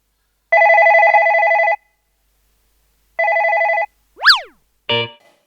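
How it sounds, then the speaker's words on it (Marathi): A telephone ringing in a comedy sketch: two long electronic ring bursts separated by a pause, followed by a rising cartoon-like boing and a short jangling effect, loud and close with no speech. "नेमका मावशीचा फोन आला होता"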